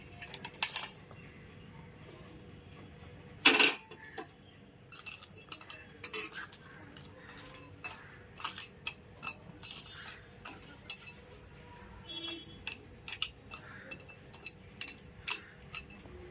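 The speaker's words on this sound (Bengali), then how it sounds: "আমি তার মধ্যে কাঁকড়াটা দিয়ে দিচ্ছি।" Crab goes into a pot with potatoes for a spicy crab curry, followed by sharp metallic clinks, pot handling and a lid being set down, scattered and close over a quiet background.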